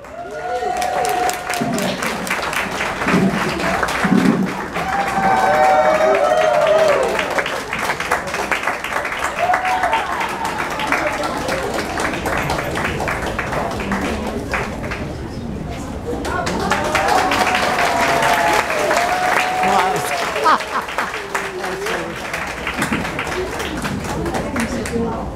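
An audience claps and cheers through a comedy show's introduction of Marknac the Magnificent, a long swell of applause with crowd noise that dips midway and then rises again, with voices mixed in.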